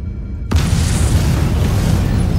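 An antimatter charge detonates aboard a ship in the video game Halo: Combat Evolved: a sudden loud boom bursts out of silence, then a heavy, continuous rumble fills the rest of the moment.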